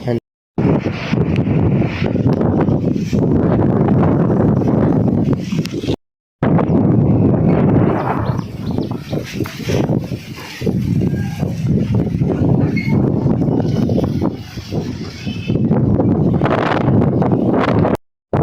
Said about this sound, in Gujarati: અટાણે બહુ પવન આવે